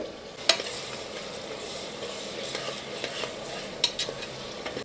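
Sliced onions with green chillies and curry leaves frying in oil in a pan, a soft steady sizzle under repeated spatula stirs and light scrapes, close and moderately quiet, no talking.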